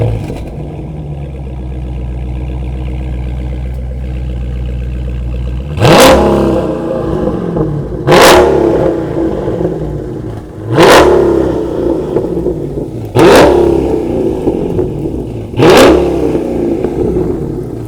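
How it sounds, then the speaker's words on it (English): A 2018 Dodge Charger Scat Pack with its Hemi V8 and a mid muffler delete idles, then is revved five times at a steady pace. Each rev is a loud, close roar that falls back to idle, with no talking. "So do you want to start it up and give it a few revs?"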